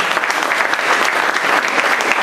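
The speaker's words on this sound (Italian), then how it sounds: "anche per lui un applauso per raccogliere il mio" Loud, close audience applause at a project presentation as the next speaker is welcomed, dense sustained clapping filling the whole moment.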